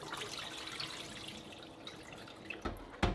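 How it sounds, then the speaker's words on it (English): Soaking water being poured off beans into a sink: a soft continuous trickle and splash, with a couple of sharper drips or knocks at the very end, close and fairly quiet. "Pour out the water from last night."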